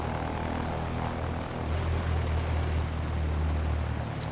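A Cessna 172 Skyhawk in a flight simulator with the Simcoders Reality Expansion Pack, landing on runway 12, its steady propeller engine drone shifting to a deeper, louder tone partway through, continuous and close.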